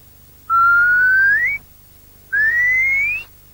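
A person whistles an imitation of a curlew call: two clear, sustained, rising whistled notes, each about a second long, separated by a short pause, loud and close over a faint low hum.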